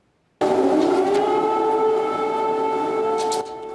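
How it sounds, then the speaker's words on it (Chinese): An air raid siren sounds over Kyiv, Ukraine, late on a Sunday night, a loud, steady wail that starts abruptly and holds a level, droning pitch for about three seconds before dropping off. "乌克兰首都基辅礼拜日半暝个响起空袭警报"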